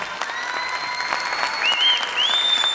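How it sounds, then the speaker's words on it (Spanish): An audience gives a big round of applause at a televised program, steady clapping throughout with a faint whistle-like tone rising over it toward the end. "Un aplauso grande y muchas gracias"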